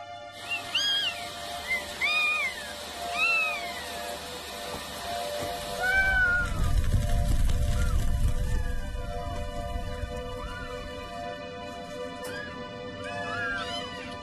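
Several cats and kittens meow repeatedly in an animal pound, some high and plaintive, overlapping in a reverberant room with a low rumbling noise in the middle.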